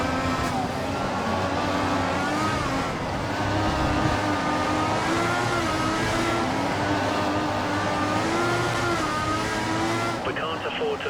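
Ferrari F1 car in the F1 2014 video game, racing on slick tyres in the rain, its engine a sustained high whine that rises and falls steadily throughout, with commentary spoken over it.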